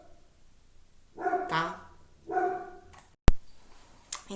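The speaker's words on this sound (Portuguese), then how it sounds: "tive que dar uma pausa por causa do latido dos cachorros" Dogs barking nearby, two short bursts of barks and yips about a second apart, followed by a sharp click and a brief faint voice.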